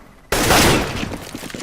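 Gunfire in the video game CS:GO: a sudden loud blast followed by a dense, rattling burst that fades over a second or so, with no speech.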